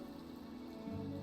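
Steady Minecraft rain patters softly and evenly across the surface, a quiet continuous downpour with no voices over it.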